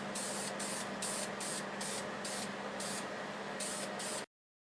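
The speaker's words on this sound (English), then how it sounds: "I'll just use spray lacquer on it" Spray lacquer hisses steadily onto sanded walnut pieces in a loud, close, continuous burst that pulses slightly with each pass and then cuts off abruptly near the end.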